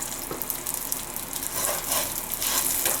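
Paella ingredients fry in hot oil in a pan, a steady close sizzle with brighter crackling bursts as the bottom is scraped, no talking.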